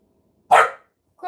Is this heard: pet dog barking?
yes